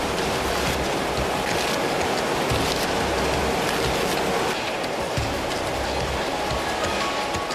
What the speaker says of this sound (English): it's cut into strips by a circular saw.